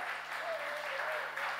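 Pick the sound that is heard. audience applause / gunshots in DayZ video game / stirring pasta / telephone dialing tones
audience applause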